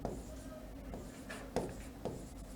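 A pen scratches across an exam form in soft continuous strokes, with a couple of sharper taps, close and low in level.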